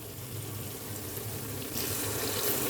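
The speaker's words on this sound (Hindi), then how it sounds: "इसके अंदर थोड़ा सा पानी ऐड करेंगे" Water poured into a pan of aloo palak, the potato and spinach curry frying with tomatoes and spices, a steady close splashing pour that grows louder and brighter partway through, with no talk.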